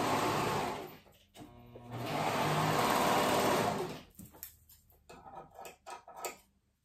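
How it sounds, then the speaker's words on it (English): A sewing machine stitches the side seams of a fleece tunic in two long continuous runs, a steady close whir separated by a brief pause, then fades into scattered handling clicks and rustles. "we're gonna go ahead and sew those sides together"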